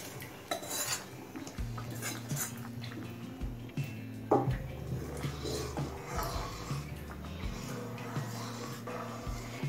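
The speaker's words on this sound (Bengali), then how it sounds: "এবার এই শাকটা ডালের মধ্যে দিয়ে দেব।" Drumstick (sajne) greens are stirred into thickened, boiling dal in a cooking pot. A spoon scrapes and clinks against the metal, with wet squelching and a sharper knock midway.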